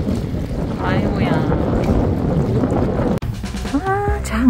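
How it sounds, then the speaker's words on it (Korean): Strong wind buffets the microphone at a cold winter fishing spot, a loud continuous roaring rumble, with a voice briefly heard near the end. "낚시 시작하자마자 바람이 엄청 부네."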